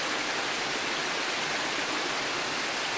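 A waterfall in the mountain valley of Vega de Pas pours into a pool below in a dense, constant roar of falling water, loud and close with no other sounds.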